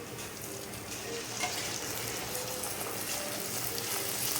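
Puri frying in hot oil, a dense steady sizzle and bubbling held close and at even loudness throughout, with no talking.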